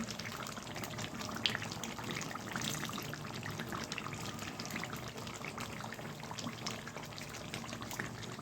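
Rose water poured into a pot of mutton kacchi biryani, a soft continuous trickle of liquid running for several seconds, faint and close with light kitchen clatter.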